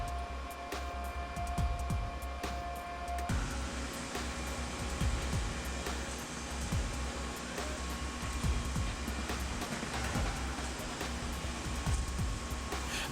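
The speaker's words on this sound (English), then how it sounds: "now it's time to see the machine shop where the car actually starts taking on a real form" Machine shop ambience in the Toro Rosso Formula One factory, where custom metal parts and carbon fiber molds are made: a steady, dense machinery hum and whir with a low drone and faint intermittent clanks, continuous throughout.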